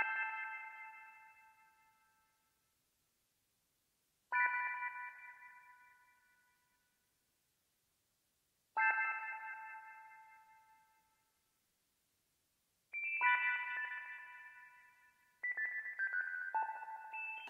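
Vox Continental organ processed with psychedelic effects, playing five separate sustained chords or stabs. Each swells in and fades over a couple of seconds with gaps between, and the last two come closer together, with no voices.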